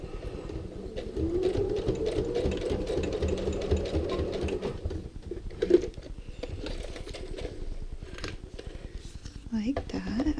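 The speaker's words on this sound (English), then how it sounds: "Fold that in half and you can stitch that." A sewing machine stitching a card onto a fabric luggage tag hums steadily at close range for several seconds, with brief pauses and handling noises, while a person talks over it.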